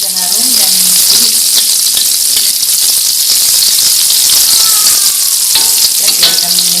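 Shallots for nasi goreng fry loudly in hot oil with a dense, steady sizzle and occasional stirring clatter, close up, with brief talking over it.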